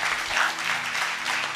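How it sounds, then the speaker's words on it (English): Brief audience applause in a church service, an even patter of many hands clapping at moderate volume with a low hum beneath, cut off mid-round. "Give him a round of applause."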